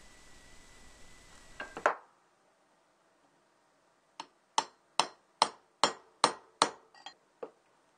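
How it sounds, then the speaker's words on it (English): Metal taps ring out in a quick series of about eight sharp hammer strikes on a socket, seating a bearing race in a steering box, close and clear, after a brief stretch of noise. "Tap a socket with a hammer to push the race in place."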